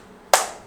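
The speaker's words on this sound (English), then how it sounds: "it's able to detect when people are clapping" One sharp, close hand clap breaks the quiet, with a short ringing tail after it.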